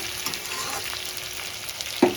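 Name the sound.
frying in a pan for rohu fish curry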